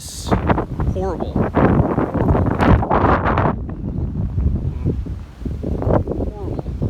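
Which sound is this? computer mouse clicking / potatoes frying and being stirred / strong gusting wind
strong gusting wind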